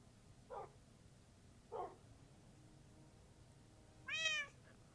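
Cat meows in the video game Minecraft, three short faint calls spaced about a second apart, the last one higher and more drawn out, over a quiet background hum.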